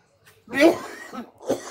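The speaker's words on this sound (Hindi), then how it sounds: "मुझे खांसी है" A man coughs loudly a couple of times, a harsh burst followed by a second, shorter cough, close and clear with no other sound around it.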